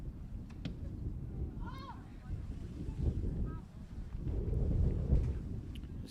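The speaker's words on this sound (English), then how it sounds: "As you can hear, it is a little bit windy out there today." Low gusting wind rumbles across an outdoor softball field during a North Dakota all-star game, swelling and easing over several seconds, with a brief distant voice-like sound partway through.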